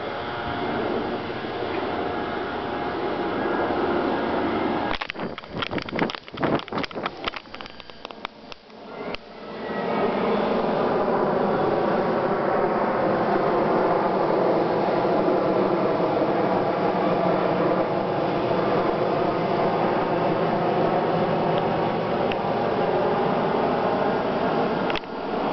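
Air France Airbus A340 from Paris landing at Detroit Metro, heard as a steady, loud roar of engine and airflow noise that rises and holds after a brief burst of rattling bumps.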